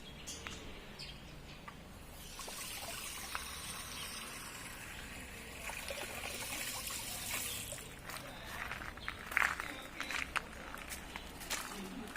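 Water trickles and splashes softly as it is poured out, quiet and close, with faint footsteps and a brief bird chirp in the background.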